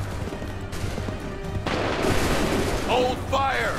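Gunfire from a musket volley in the video game Assassin's Creed III: a dense burst of shots and booms at moderate distance, with shouted voices and game sounds mixed in.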